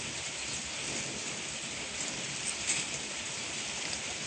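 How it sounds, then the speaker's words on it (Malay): Steady rain hisses down continuously, a dense even patter of drops on surfaces with no talking. "Sekarang ni hujan ni."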